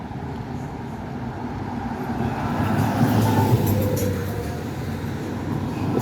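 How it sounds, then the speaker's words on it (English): A City of Boston truck passing in traffic on a Brighton street, heard as a broad, steady rumble of road noise that swells slightly and then eases as it goes by, with no voices. "It's a City of Boston truck for you."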